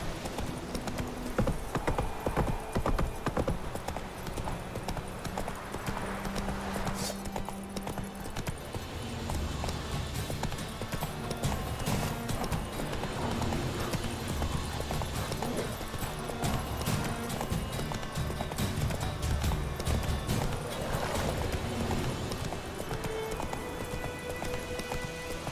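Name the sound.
horse hooves galloping in video game The Witcher 3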